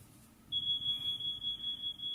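After a short pause, a fire alarm sound starts up from a Bluetooth speaker: a single high-pitched continuous tone, fairly faint, sustained to the end over low background rumble.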